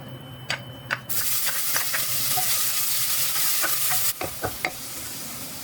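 Garlic sizzles loudly in hot oil for a buttered crab and shrimp dish, a steady bright hiss broken by a few sharp clicks and pops from stirring, close and with no talk.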